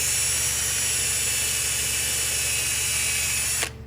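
Power drill boring a pilot hole for a screw into wood while building a small squirrel picnic table feeder, a steady continuous whine held loud and close for several seconds before cutting off.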